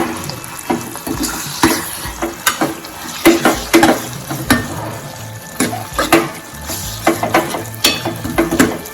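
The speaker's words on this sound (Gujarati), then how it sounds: "તો જે ઓળો છે તે એડ કરીશું, લીલા ધાણા એડ કરી મિક્સ કરી લેશું।" Roasted eggplant oro being stirred and mixed with fresh coriander in a pan, giving repeated scraping and clacking strokes with wet, squelchy texture at a steady uneven rhythm, close and moderately loud with no talk.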